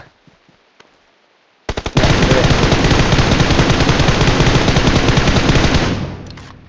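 Sustained automatic gunfire in a video game, a dense rapid stream of shots lasting about four seconds after a few brief single bursts, loud and close, with no talk over it.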